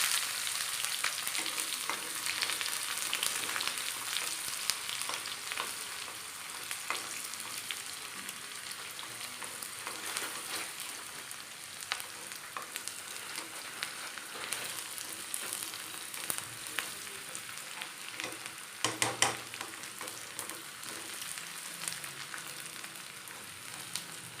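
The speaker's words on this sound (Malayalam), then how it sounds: "അതിലേക്ക് നമുക്ക് ചുമന്നുള്ളി ഇട്ട് കൊടുക്കും." Shallots frying in hot oil with mustard seeds popping, a steady dense sizzle throughout with a brief louder burst of crackle near the end, no talking.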